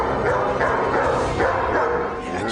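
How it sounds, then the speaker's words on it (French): A dog barks loudly and repeatedly at close range in a dramatic scene, with a few yips in a quick, uneven rhythm. "Qui c'est, ce chien?"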